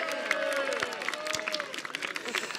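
Spectators at a university sailing race applaud the winner, a steady wash of clapping and crowd noise with a few cheers, under a sustained tone and scattered voices.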